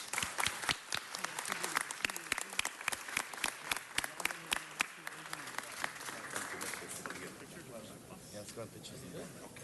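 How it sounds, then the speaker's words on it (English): An audience at a city council meeting applauds a group of champions with a burst of dense, close clapping that thins out over the final seconds while voices talk over it. "Let's give them another round of applause."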